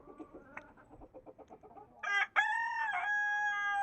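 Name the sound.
rooster crowing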